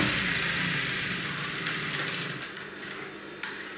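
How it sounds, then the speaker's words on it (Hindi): A foot-operated sewing machine runs steadily, stitching the seam of a Rajputi dress piece with a continuous mechanical whir, loud and close at first and easing slightly, with a couple of sharp clicks near the end. "टांका आपको एक पैर की सिलाई से लगा देना है इस तरीके से, और बिल्कुल सीधा टांका लगाना है।"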